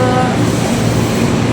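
Madiun Jaya commuter train running on rails, a steady loud rumble with low droning hum and continuous wheel noise throughout, no talk.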